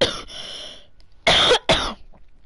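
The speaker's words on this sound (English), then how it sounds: "Someone's just coughing" Someone nearby coughs harshly during an online game session, a drawn-out rasp followed by two sharp, loud coughs in quick succession.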